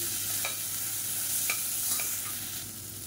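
Mint, coriander and curry leaves sautéing lightly in a pan for millet and green gram kanji, giving a steady soft sizzle broken by a few sharp spatula scrapes, with no talking.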